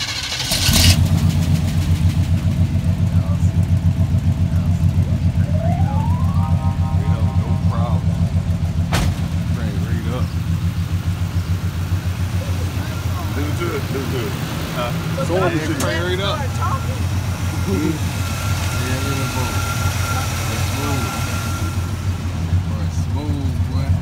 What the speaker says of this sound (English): Gotta get that cold start right now.